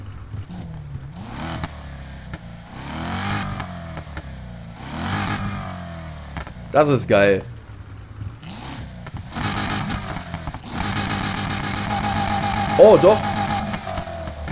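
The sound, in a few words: tuned Audi S5 engine revving, from video game Need for Speed Heat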